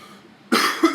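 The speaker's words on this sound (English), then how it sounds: "Coughing like that," Two sharp coughs in quick succession, loud and close, following a moment of near quiet.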